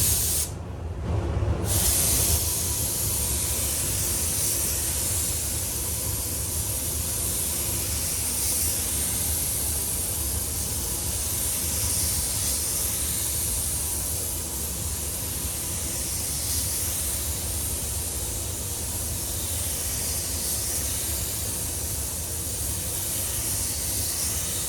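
A spray gun lays clear coat over fresh paint on a Ford Fiesta ST during a repair, giving a loud, continuous close hiss that runs almost without break after a brief start.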